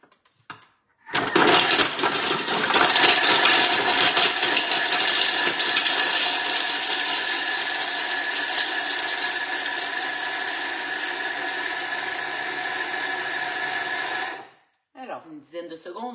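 A food processor running at speed 7 chops very hard cheese in a home kitchen. It makes a loud, continuous whirring grind for about thirteen seconds, then cuts off abruptly, followed by brief quiet handling sounds.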